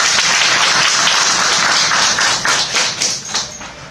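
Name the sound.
applause from the seminar audience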